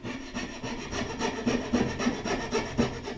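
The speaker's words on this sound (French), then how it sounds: "je vais utiliser une petite scie à chantourner pour retirer la matière entre les deux queues d'aron" A small fretsaw cuts out wood between two dovetails on a tool cabinet, giving a steady rhythmic rasping of back-and-forth strokes, close and continuous without talk.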